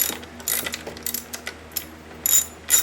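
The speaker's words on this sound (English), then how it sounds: "there is a T30 bolt right here that we need to take off" A ratchet wrench removing a T30 bolt from the intake manifold bracket of an MK5 GLI FSI engine, quick clicking pawl sounds in short bursts with small metallic clinks, close up.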